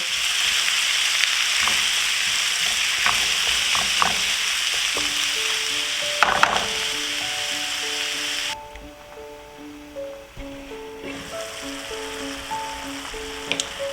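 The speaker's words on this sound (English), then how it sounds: "I'll cook it until the tomatoes soften, about 3 to 5 minutes." Tomatoes sizzle steadily in a pan over low heat, a continuous close frying hiss with occasional soft stirring clicks, while a quiet tonal melody joins partway through.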